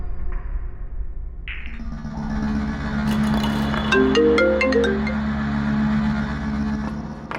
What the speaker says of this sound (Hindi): कर्मा जी फोन क्यों नहीं उठा रही?